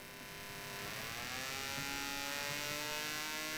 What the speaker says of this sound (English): So when they spin around, they will create an electromagnetic field.